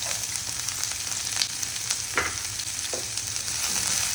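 Chopped onion and garlic fry in olive oil in a pan with a steady, bright sizzle, broken by a few soft stirring scrapes.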